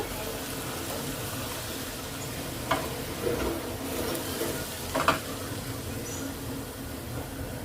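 Very hot oil is poured over chili for homemade chili oil, giving a steady crackling sizzle with a few sharper pops and spits, close and continuous with no talk.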